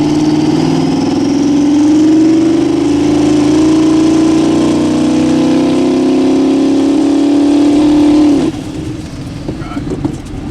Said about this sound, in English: you could get a death wobble just like we did with our full throttle death wobble